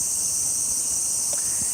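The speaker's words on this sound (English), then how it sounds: "When you hear the sound of the cicada just going crazy in the trees," Cicadas in the trees of a Japanese garden in summer give off a dense, continuous high-pitched buzz that stays steady and prominent throughout, with faint background noises beneath.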